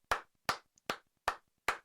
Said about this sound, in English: Let's just have a clap.